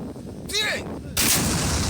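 Artillery guns firing during a military exercise: two heavy booming blasts with sharp cracks and rolling echoes, loud and close, with a brief voice before them.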